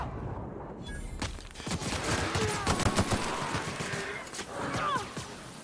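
Assault rifle fire in The Outer Worlds crackles in repeated close bursts amid combat clatter, with scattered impacts and faint groans mixed in.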